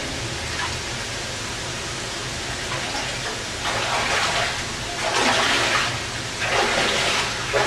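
Rushing water of a waterfall on the River Dour, a broad, steady roar heard up close that swells louder in surges toward the end.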